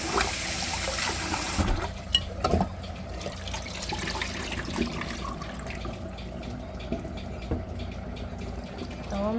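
Rice being rinsed in water, a continuous soft sloshing and trickling with a few clinks, faint and close, with no talking.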